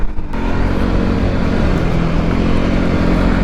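A Voge 300 Rally adventure motorcycle is ridden with ABS switched off. A loud, continuous engine drone mixes with wind rush throughout and holds fairly steady, close to the listener.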